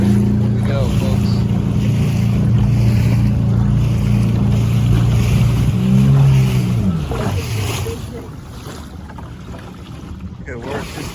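A motorboat engine running in gear gives a loud, steady low drone with water wash, fading somewhat toward the end as a voice speaks over it.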